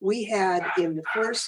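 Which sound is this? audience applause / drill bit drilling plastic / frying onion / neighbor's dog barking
neighbor's dog barking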